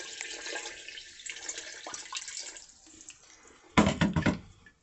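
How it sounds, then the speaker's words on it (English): Water splashes and trickles as it is poured into a small Temu washing machine tub, light pouring at first then a louder gushing burst near the end, close by. "Adding a little more water."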